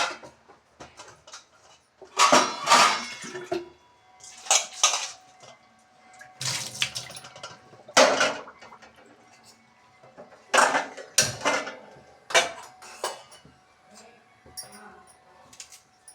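In a home kitchen, a pan and metal utensils clank and scrape in scattered bursts, some sharp and loud, others softer, with brief pauses between them and a little background talk.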